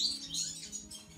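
Sunbird being hand-tamed and fed on its first day, giving a quick run of thin, high chirps close by over a faint low background hum, with no talking.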